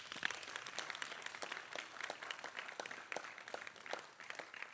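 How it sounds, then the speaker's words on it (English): Audience applause at a kirtan gathering in Sydney, a dense steady patter of many hands clapping at moderate, fairly even loudness with no voices over it. "Give yourselves a big applause."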